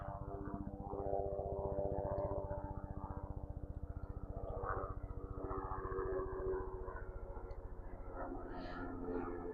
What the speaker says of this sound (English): Got a helicopter coming by.